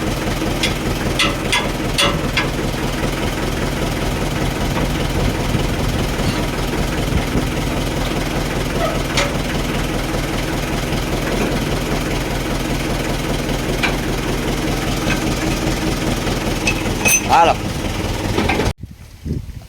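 A 475 tractor engine idling with a steady low rumble throughout, loud and close, with a few clanks before it cuts off near the end.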